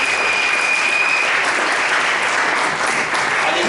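Steady applause from a church congregation during a French-language worship service, a dense, continuous clapping that fills the space for a few seconds with no talking over it.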